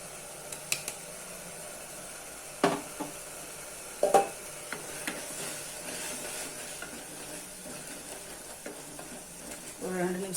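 Tomatoes sautéing in a pan with ground masala powder for vegetable brinji rice, a steady low sizzle with a few sharp scrapes and clinks of a spoon stirring against the vessel, close and moderately quiet.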